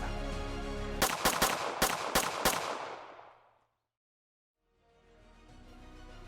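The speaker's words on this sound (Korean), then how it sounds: "총 6발 총성이 울리고" Six pistol shots ring out in a quick, uneven burst during the 1909 Harbin shooting of Itō Hirobumi. They are loud and sharp, with a ringing tail that fades into silence before a soft background returns.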